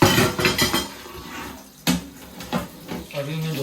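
Breakfast dishes being washed by hand at a kitchen sink: irregular clatters and clinks of plates and cutlery, close and moderately loud, with brief pauses between knocks and some running water.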